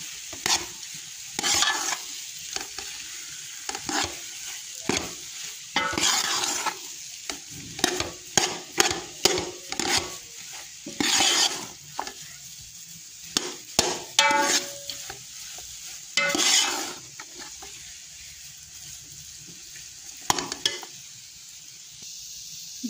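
Semolina halwa frying in a pan as it is stirred, with repeated close scraping strokes and soft sizzling coming in irregular bursts separated by quieter pauses.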